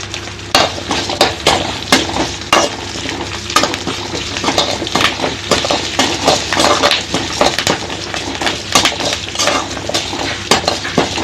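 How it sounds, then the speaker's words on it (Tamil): Small onions and curry leaves fry in a pan for manathakkali chutney, with a steady sizzle under repeated close spoon-stirring scrapes and clatter against the pan. "கொஞ்சம் சின்ன வெங்காயம் போட்டுக்கலாம். அதுலேயே ஒரு கொத்து கருவேப்பிலை உருவி போடுறோங்க."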